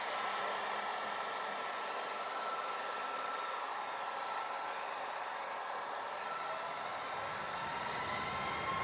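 Southwest airliner taking off from runway 25 at Montego Bay on a wet day, a steady broad jet engine roar holding at full loudness throughout with no voices.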